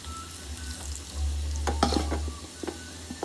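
A batch of okra (vendakkai) fries in a pan with a soft steady sizzle, while a spoon or spatula stirs it in a few scraping, clattering strokes. It is close and quiet, with no voices.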